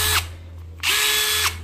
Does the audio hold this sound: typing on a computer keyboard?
no